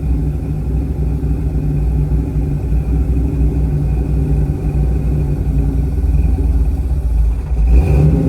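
A 1969 Buick Special Deluxe engine idles with a loud, steady low rumble and an even pulsing throb, close by, with a brief swell near the end.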